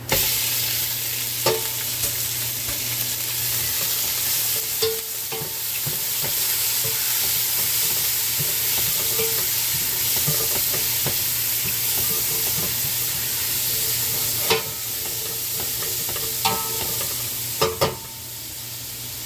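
Shrimp fry steadily in a pan with a loud, continuous sizzle, broken by occasional scraping and stirring clicks from a utensil.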